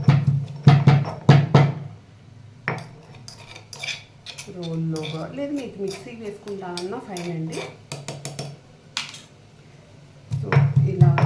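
Boiled beetroot with garlic and chilli powder is pounded by hand, sharp metallic knocks in quick bursts at the start and end, with someone talking in between.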